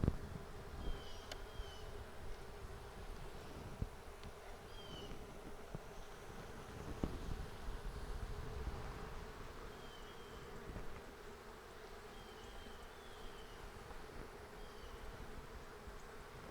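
Honeybees hum in a soft, continuous buzz around the hive, with occasional individual bees droning closer, no voices present.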